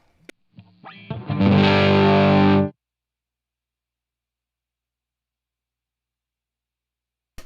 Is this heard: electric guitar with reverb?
yes